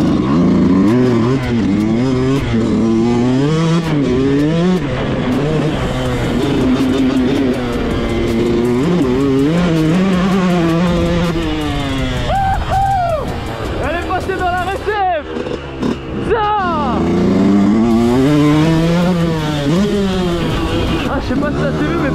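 A Yamaha YZ 125 motocross bike engine revs repeatedly at a motocross event in Chartrainvilliers, pitch climbing and falling in loud bursts, with crowd chatter and voices mixed in around it.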